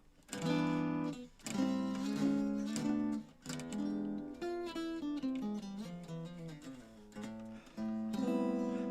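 An unamplified D'Angelico Excel EXL-1 archtop electric guitar strums chords and picks a short phrase, sounding thin and woody, fairly quiet, with no talking.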